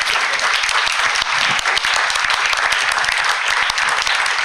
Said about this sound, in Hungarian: egy nagy-nagy tapsot kérek ennek a 3 csodálatos embernek